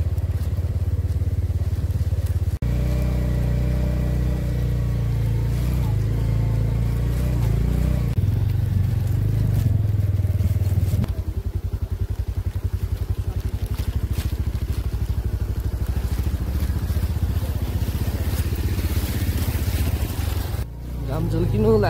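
A motorcycle climbs a mountain road above a homestay, its engine droning loud and close with shifting pitch as it labours uphill, while a rider talks over it.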